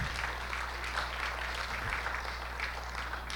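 Steady applause from a crowd, a dense even patter of clapping that holds without a break over a low steady hum.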